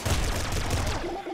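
Lightning cannon firing in the video game Nuclear Throne, a dense, sustained crackling barrage of rapid electric blasts with booming low end, loud and continuous for the whole moment, no talk over it.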